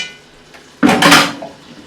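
A spoon scraping and clanking against a pot while minced garlic and chopped onions are stirred, a short loud burst of metallic clatter lasting about half a second, no talk.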